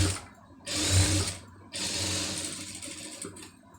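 Sewing machine stitching an Aari blouse runs in two loud, steady bursts of fast mechanical whirring, close up, with a brief stop between them.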